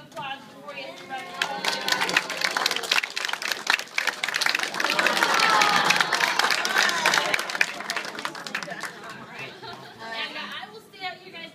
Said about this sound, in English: Give him a nice round of applause before he has to run